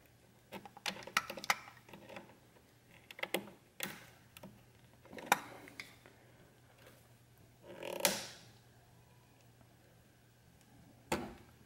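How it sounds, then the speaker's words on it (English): Small metallic clicks, ratcheting and tool scrapes while a hose clamp is removed from the intake of a Kia Stinger GT2, close and faint, in irregular bursts with pauses and no talking. "So just remove this clamp."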